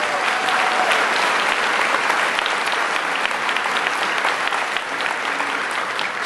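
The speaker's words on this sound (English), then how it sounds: "So, round of applause for production team," Thick, sustained audience applause for the production team at a DEF CON closing ceremony, a large crowd clapping loudly and evenly throughout with no letup.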